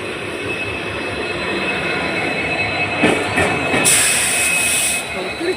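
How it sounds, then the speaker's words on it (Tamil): A train pulls into a station on the Pamban Bridge route, with a steady rolling rumble that swells near the end, where a bright high wheel squeal cuts in. "ஸோ நம்மளோட ட்ரெயின் உள்ளே வந்துருச்சு."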